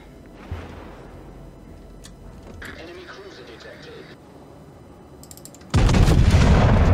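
Battleship guns fire in the naval game World of Warships from the fast battleship Queen Elizabeth: a faint low boom early, a muffled mid-section, then a sudden loud, sustained roar of a heavy salvo near the end.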